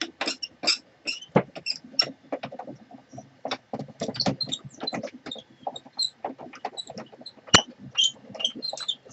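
A die cutting machine pulls cardstock through its rollers with a rapid run of clicking, crackling ticks and short grinding bursts, fairly close and steady, with no talk over it.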